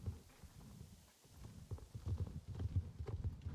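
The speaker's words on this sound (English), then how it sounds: "Aha, a donkey." A donkey's hooves clip-clop in a video game, with soft irregular thuds that start faint, pause briefly, then grow denser and louder as the animal keeps walking nearby.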